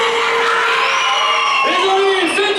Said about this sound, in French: Ah, ils vont crier.